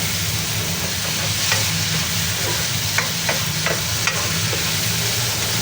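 Chili and shrimp paste (alamang) sautéing for Bicol Express, a steady close sizzle and fry with a few sharp clicks of stirring utensils against the pan, no voices.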